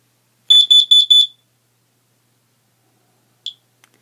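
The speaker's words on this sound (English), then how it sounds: "this smoke detector reads 104 decibels" A Kidde NightHawk smoke detector alarm blares four loud, shrill, rapid beeps in quick succession. After a pause a single beep follows, then a faint trailing chirp, all close and clear.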